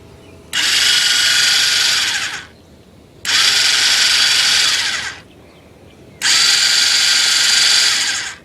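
A 250cc ATV engine cranking: three separate bursts of loud whirring starter grind, each lasting about two seconds with short gaps between, close by and without the engine catching, no talking.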